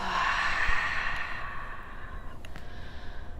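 A long, slow exhale during a breathing exercise, a soft breathy hiss that fades gradually over a few seconds, close and alone without talk.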